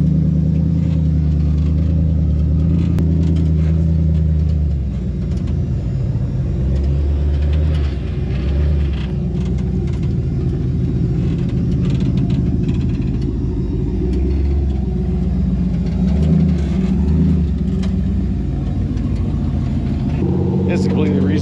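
A Jeep Cherokee engine labours as it crawls over a rough rock trail, a loud steady low rumble with brief revs, running continuously under people talking.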